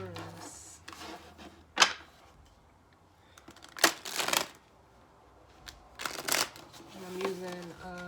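Tarot cards being shuffled by hand in a quiet room, several short riffling bursts at a moderate level, close up, with no talking.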